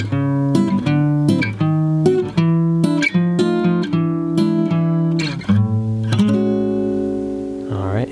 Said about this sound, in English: Now we're going to add kind of a jazzy acoustic blues vibe to that turnaround by adding harmonies